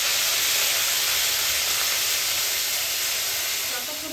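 Ground onion paste added to hot oil already tempered with cinnamon, a clove and cumin seeds, producing a loud, steady, close hiss that holds throughout and eases slightly at the end.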